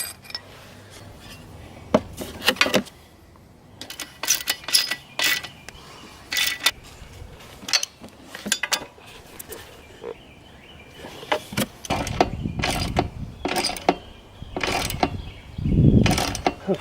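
Ratchet wrench snugging 12 mm bolts on a carburetor being fitted to a Honda CRF150F engine, heard as repeated short clicking bursts separated by pauses, close up, with heavier handling clunks near the end and no talking.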